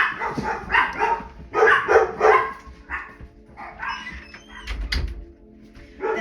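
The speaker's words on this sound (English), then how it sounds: "Sorry about the dogs." Several dogs barking indoors in bursts, loud and near, with a door sound and some background noise between barks.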